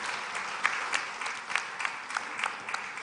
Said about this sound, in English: Can you please give another round of applause?